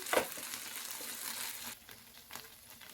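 Boiled pasta being stirred in a pan with mayonnaise, red chilli sauce and other sauces, producing a soft wet sizzling and scraping texture with a brief louder knock at the start, no talk.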